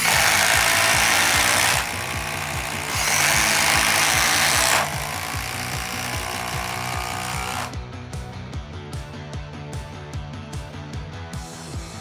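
A Milwaukee M12 drill drives 3.5-inch deck screws, loud whirring motor bursts with a rhythmic ratcheting clatter, revving in separate runs, close and alone.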